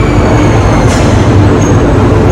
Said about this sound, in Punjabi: ਮੈਟਰੋ ਆ ਗਈ ਆਪਣੀ